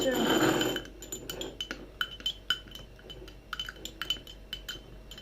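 Plates and small spoons being pulled across a table, with a run of light, sharp clinks and taps of ceramic and metal after a brief muffled shuffle, under occasional nearby talk.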